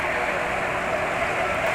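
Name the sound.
automatic scooter engine running with Motul GP Matic oil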